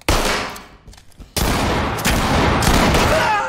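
Gunfire in the tactical shooter game Ready or Not: loud, close bursts of rapid shots, a short pause, then sustained firing to the end.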